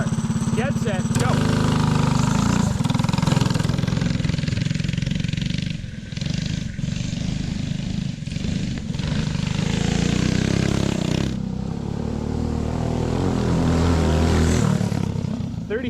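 A go kart engine drones loudly through a racing lap on a track with grass, its pitch rising and dipping as the throttle changes, while voices talk over it.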